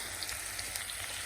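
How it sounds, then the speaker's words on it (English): Onions sautéing gently in oil over relatively low heat for French onion soup, a steady soft sizzle and crackle with no voices, close and even throughout. "we're starting to get to the point here where these are sauteing quite nicely"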